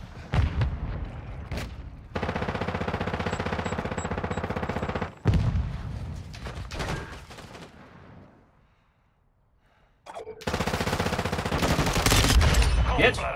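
Heavy gunfire in a Call of Duty match, with dense bursts of automatic shooting and booming blasts. The fire cuts off sharply, fades to near silence, then returns loud and sustained.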